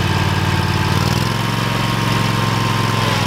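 A walk-behind lawn mower engine runs loud and close at a steady, throbbing idle, with no pauses and no voices.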